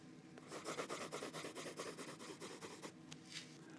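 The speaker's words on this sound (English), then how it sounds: "So that's what your pen will sound like if you have your ear right next to the page" A Jinhao 1935 Tiandao fountain pen nib scratching across paper, heard very close up as a soft, continuous rasp with rhythmic stroke pulses. The sound is faint and there is no talk.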